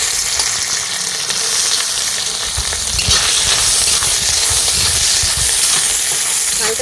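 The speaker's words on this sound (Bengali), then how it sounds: "এই ঘিয়ের মধ্যে দিয়ে ভেজে নেব।" Raisins and grated coconut fry in hot ghee, giving a loud, steady, close sizzle and crackle throughout, with occasional stirring scrapes and no voices.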